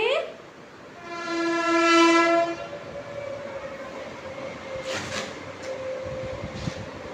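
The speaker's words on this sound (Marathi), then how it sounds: "ट्रेन बघा आली" A train horn blares in long sustained tones, loud and steady, then fades as the rumble of rail cars rolls past.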